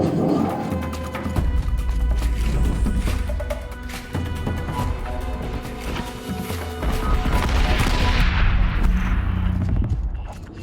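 Machine firing its mine launcher in the video game Horizon Zero Dawn, The Frozen Wilds: a loud, dense barrage of booming blasts and crashing impacts over a rumbling game soundscape, ending in a brighter hissing burst.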